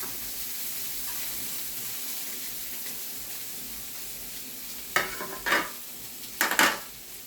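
Fish being laid into a pan for ginataang isda, giving a steady soft sizzle throughout with a few louder bursts of crackle and stirring near the end; no talking.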